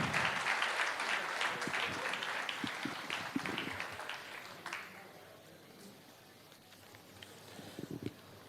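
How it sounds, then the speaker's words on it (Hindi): An audience at a televised awards event applauds loudly, a dense wash of clapping that gradually fades out, leaving a few scattered claps and some background murmur. "जोरदार तालियों से स्वागत करिए"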